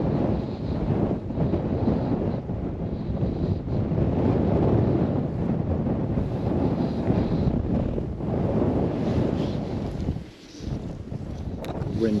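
Strong wind buffets the microphone during winter fly fishing, a loud continuous rumble with gusting swells that dips briefly near the end.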